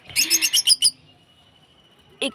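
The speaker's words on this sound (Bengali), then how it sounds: "ওই দেখো দেখো এমন উড়াউড়ি করছে।" A small pet bird in a cage lets out a quick run of about six bright chirps, followed by a faint, thin whistle-like tone. One more short chirp comes near the end, close by and alone.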